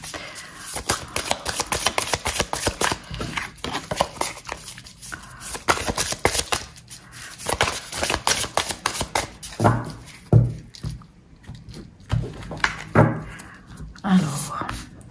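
Tarot cards shuffled by hand in quick rustling bursts, close and soft, with breaths and short pauses between riffles and a voice speaking now and then.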